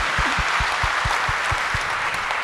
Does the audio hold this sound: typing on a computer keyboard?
no